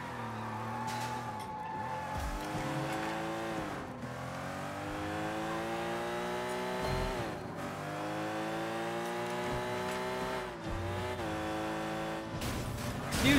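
A car engine in the Sleeping Dogs video game revs hard during a street race, climbing through the gears again and again with tyre squeal in between, loud and continuous.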